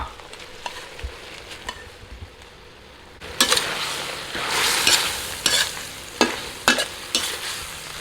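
Fish stir-fried with cumin leaves in a hot pan: a quiet start, then loud, steady sizzling with repeated scraping strokes of the spatula close by.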